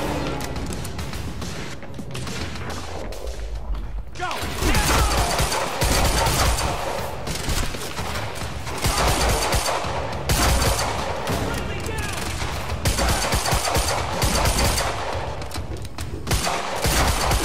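Heavy gunfire in the video game Quantum Break, dense bursts of automatic shots running almost continuously after a brief quieter opening, with voices talking over the battle.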